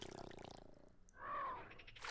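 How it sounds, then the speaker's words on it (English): A dinosaur drinking water in the survival game The Isle, soft lapping and trickling that swells in the middle and trails off, fairly quiet, following a brief patter of other game sounds. "Can you freaking drink?"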